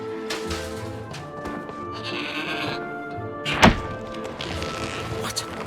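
A goat in the fantasy platform game Trine 4 gives a single loud bleat near the middle, over a steady musical game soundtrack with a soft thump.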